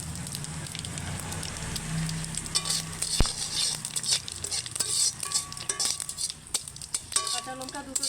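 Cumin seeds sizzling in hot oil in a pan alongside dried red chillies and bay leaves, a steady crackling fry with a few sharp clinks of utensils and stirring scrapes, close and continuous throughout.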